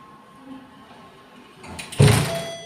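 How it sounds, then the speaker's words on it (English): A lift at Canary Wharf comes to a stop, a faint mechanical hum giving way to the doors sliding open with a sudden whooshing rush and thud near the end. "Ground floor. Doors open."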